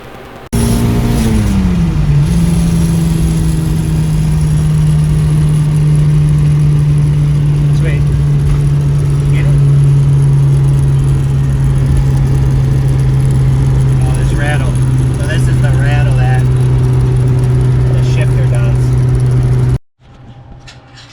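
A Honda B-series car engine cranks and catches, then settles into a loud, steady idle that runs unbroken for about twenty seconds before cutting off abruptly, with the exhaust dropped.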